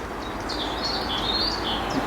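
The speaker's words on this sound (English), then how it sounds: "You can hear a robin calling on the right occasionally" A robin singing near a sheltered lake, with thin high warbling phrases rising and falling over about two seconds, faint and somewhat distant above a steady outdoor background hiss, no voices.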